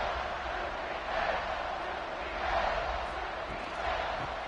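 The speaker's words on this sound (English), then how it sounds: "this home crowd ready to celebrate a very satisfying home victory" Home football crowd in a stadium celebrating a win over the Bulldogs, a steady broad roar of cheering that swells slightly in waves, continuous and moderately loud throughout.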